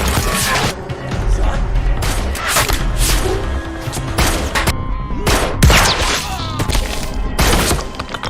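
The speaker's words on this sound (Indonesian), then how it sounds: "Baku tembak pun kembali terjadi." Gunfire erupts in a gangster film shootout, with repeated sharp bursts and crashing impacts over a loud, dense mix of action noise that carries on throughout.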